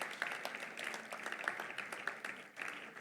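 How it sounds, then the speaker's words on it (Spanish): An audience at a Valencian gastronomy awards event applauds, a dense, steady patter of many hands clapping from moderate distance for a few seconds. "creo que se merecen el aplauso de todos nosotros"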